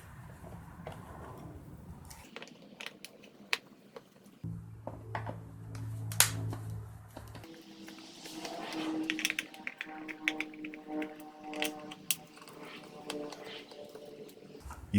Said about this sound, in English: I only need to remove those screws across the top and bottom portion of the cover to service the brush roller section